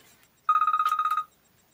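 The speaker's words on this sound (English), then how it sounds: "excuse me, my phone went off." A mobile phone rings with a rapid electronic trill of about a dozen bright pulses, clear and close, interrupting a lecture on electrical transformers in a quiet room.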